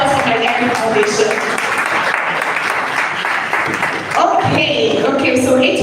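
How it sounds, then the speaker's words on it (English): Audience applause at a gynecology health summit, a dense steady clapping wash lasting the whole stretch with a brief dip near the middle, mixed with voices and crowd noise. "So a round of applause for my Gynecology Foundation."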